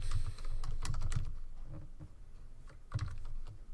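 A burst of quick keystrokes on a computer keyboard as a short search term is typed, a pause, then a few more clicks, close and clear with no talking.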